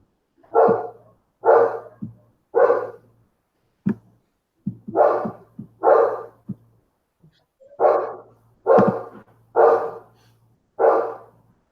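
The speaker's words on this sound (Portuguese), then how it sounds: "Quem é que tem esse cachorro que não para de latir?" A dog barks in repeated loud bursts, about a dozen sharp barks in quick irregular clusters, close to the microphone and with no talk over them.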